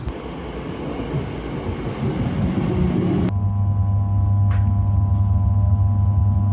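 A London rail line train ride on the way to Harold Wood: steady loud rumble of the carriage on the tracks, switching midway to a smoother hum with sustained tonal whine and a brief squeal, no talk.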